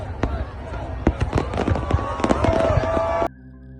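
Fireworks bursting over Rio de Janeiro during a celebration, a rapid irregular string of sharp cracks and booms with a crackling wash between them, loud and close, cutting off abruptly near the end.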